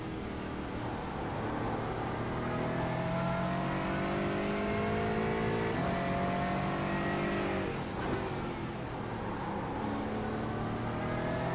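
A GT4 race car in the iRacing sim on the Nürburgring, its engine droning and revving up through the gears, then dropping off and building again.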